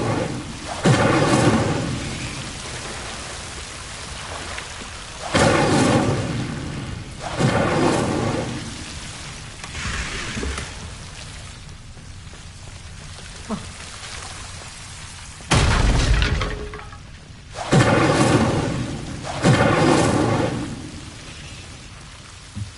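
Hogwarts Legacy Incendio fire spell blasts, several loud whooshing roaring bursts spaced over the stretch, each flaring then fading, with quieter ambience between.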